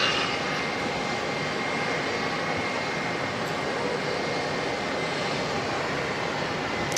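A Jetstar airliner departing Auckland Airport gives off a steady, loud, broadband engine roar that holds evenly throughout with no pauses and no talk over it.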